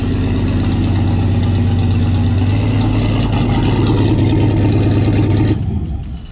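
A turbocharged auction Corvette with a truck engine runs on a dyno, its loud, close, lumpy engine drone holding steady for about five seconds before cutting off and fading.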